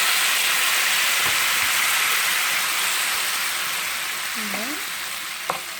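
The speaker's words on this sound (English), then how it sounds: "So I'm going to saute my shrimp" Shrimp sauté in garlic and herb butter in a skillet, giving a steady, dense sizzle close by throughout, with a faint voice briefly in the background.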